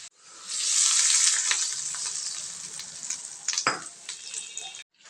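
Asafoetida sizzles in hot oil as the tempering for a yellow cucumber chutney is stirred, a loud close hiss that swells, then fades while a spoon scrapes and clinks against the pan.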